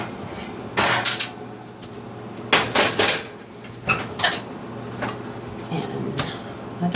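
Pans and cutlery clatter in a few sharp bursts as a tray of Moroccan beldi black soap is taken out of a home oven, with a person talking between the clanks.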